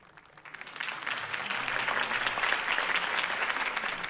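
Crowd applause in Batman: The Telltale Series, a dense steady clapping that swells in after a quiet half second and holds loud and full to the end.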